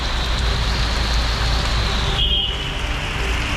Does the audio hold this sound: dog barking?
no